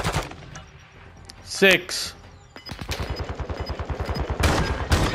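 Rapid bursts of automatic gunfire from the shooter game Call of Duty: Modern Warfare II, starting after a short quieter stretch and then rattling steadily and loud to the end, with a single spoken word early on.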